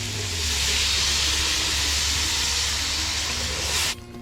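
Water poured into a hot pan after about ten minutes of dry-roasting for Thai hang lay curry gives off a loud, close, steady steam hiss. It cuts off abruptly near the end, with no talk.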